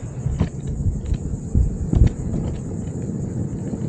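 Windseeker G5 electric skateboard with hub motors climbing a hill at full throttle in medium gear: a steady low rolling rumble and whine, broken by a few bumps and knocks, no speech.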